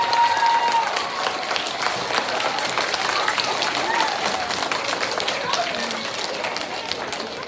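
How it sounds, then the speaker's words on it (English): Steady, dense applause fills a school assembly as a crowd of children and adults claps for kindergartners and pre-K pupils, continuous and fairly loud throughout. "Let's give them one big round of applause."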